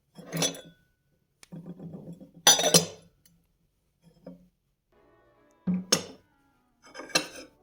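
Porcelain tea set pieces, cups and a small brewing teapot, clink and rattle together in several separate bursts of bright ringing contact with quiet gaps between, close and fairly loud, with no talking.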